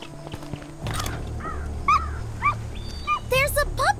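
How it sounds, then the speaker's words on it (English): A puppy in a zombie survival video game whimpers and yips in several short, high, rising cries over a steady background hum and in-game music. "There's a puppy! Come here, little puppy."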